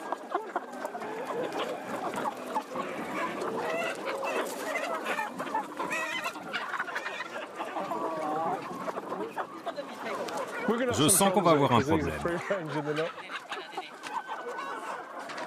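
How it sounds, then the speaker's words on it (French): Hens cluck busily and steadily while someone tries to catch one for flu virus sampling on a poultry farm, with a louder flurry of squawks near the end. People speak French over the birds. "C'est très difficile d'attraper une poule."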